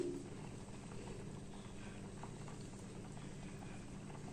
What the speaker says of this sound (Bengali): আমি আমার সতে করে রাখা পনিরগুলো একে একে অ্যাড করব তো আমি পনিরগুলো অ্যাড করে দিচ্ছি